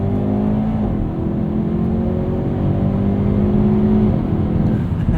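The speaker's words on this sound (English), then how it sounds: "It actually accelerates between shifts when you have N power shift enabled." Engine of a 2021 Hyundai Veloster N with dual-clutch transmission pulling hard through its gears, a loud, close, steady drone that climbs in pitch and drops at each quick upshift, with no voices over it.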